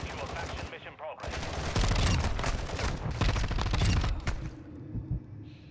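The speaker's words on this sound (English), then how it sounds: "Even though the gun goes off, they actually don't hear the gun for some reason." Rapid automatic gunfire in Call of Duty Modern Warfare II DMZ, dense bursts of loud shots sustained over several seconds with a brief pause near the start, a voice talking faintly underneath.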